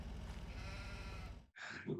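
In the video game Farming Simulator 25, a dense wash of farm ambience cuts out briefly, then a single clear sheep bleat sounds up close.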